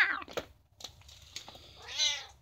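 A full-grown handicapped Siamese cat meows close by, a couple of short chirpy cries and then a longer, drawn-out wavering meow, with quiet rustling between them.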